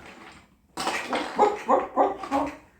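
A person imitates a dog, letting out a quick run of four or five loud, close yapping barks after a short quiet moment.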